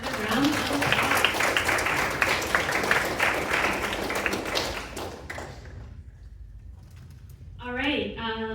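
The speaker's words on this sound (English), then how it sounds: "let's give them another round of applause" Audience at a pitch competition during a symposium in Hawaii applauding the presenters, dense clapping for about five seconds that fades out, followed by quiet and then a voice speaking.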